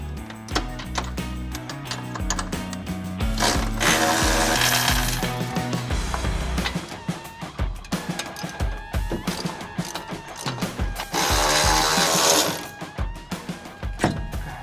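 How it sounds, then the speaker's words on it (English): An impact wrench with an 18mm socket rattles in loud bursts loosening bolts on an Audi R8, hammering and whirring close up, with metallic clanks and clunks between the runs. "Now we can use our favorite power tools."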